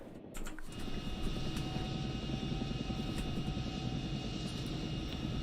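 Chinook helicopter engine at full throttle in a flight simulator game, a steady loud rotor and turbine roar that holds constant throughout with no talk.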